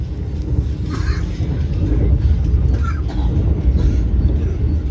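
Steady low rumble of a Vande Bharat Express train passing through 3 Mile Hat railway station, loud and continuous, with faint clatter and indistinct sounds rising briefly over the drone.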